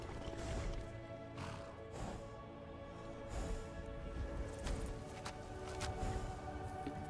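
A horse in the Skyrim video game neighs and whinnies over clopping hooves, with repeated whinnies and hoofbeats at close range over a noisy game background.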